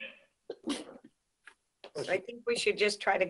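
A single short sneeze bursts out near the start of a commission meeting, followed by a pause and then people talking.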